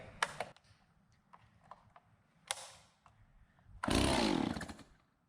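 A Stihl MS260 or MS170 chainsaw under repair gets a few sharp pull-start rattles, then catches and briefly roars into a loud, rough run before dropping off near the end.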